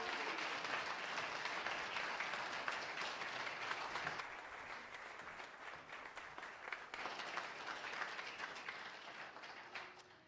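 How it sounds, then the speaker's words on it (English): A church congregation gives sustained applause as people leave the stage, a full, even roar of many clapping hands that dips slightly partway through and continues steadily. "the rest of us will give heartfelt applause"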